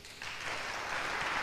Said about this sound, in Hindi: तालियां पे तालियां बनती है